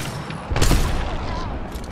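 A short, loud burst of gunfire with a booming impact erupts about half a second in during an Apex Legends match, then fades into a rumbling tail, with faint voices in the background.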